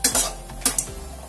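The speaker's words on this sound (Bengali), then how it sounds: "তেলটা গরম হয়ে গেছে, এবার এর মধ্যে দিয়ে দিচ্ছি কতগুলো বড়ি" Lentil dumplings (bori) dropped into hot oil in a pan spatter and sizzle in short, close bursts that trail off, with no voices.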